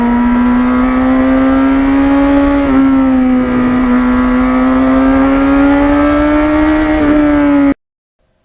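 A 1991 Yamaha FZR 1000 motorcycle cruising on an open road, its engine droning loud and steady near the rider with a gently rising and falling pitch, then cutting off abruptly at the end.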